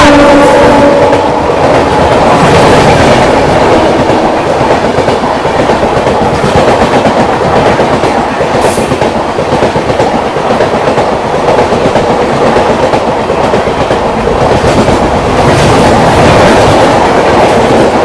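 A train running fast on its tracks near Kosi Kalan station during an overtake, with a loud, steady rumble and rushing noise and clickety-clack from the wheels that lasts the whole time, close and continuous.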